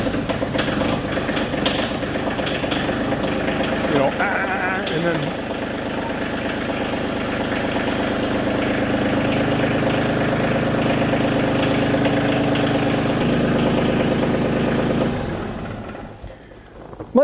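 A Kioti CK tractor's diesel engine with mechanical fuel injection idles steadily for most of the clip, a low rumbling chug under someone talking nearby, then the engine dies away near the end.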